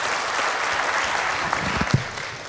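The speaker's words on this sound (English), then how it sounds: "Please give Nathan a round of applause" Audience applause at a real estate coaching success panel, a steady wash of clapping from a crowd indoors, fairly loud and sustained throughout with a few sharper claps near the end.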